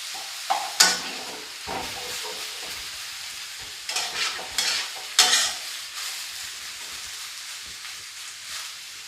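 Rice vermicelli noodles are stir-fried with water in a pan, with a quiet background sizzle broken by several sharp scraping and tossing strokes of a spatula, close and without speech.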